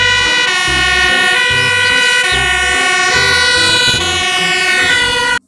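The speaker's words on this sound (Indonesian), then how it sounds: "Wadidaw, lihat, di sini ada mobil pemadam kebakaran." A toy fire truck plays its electronic siren, a loud wailing tone that repeats in a steady rhythm over a thumping beat for about five seconds and then stops suddenly.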